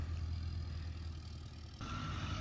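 A tractor engine runs steadily at a low, even drone during baling work, heard from a short distance with no voices, its tone shifting slightly near the end.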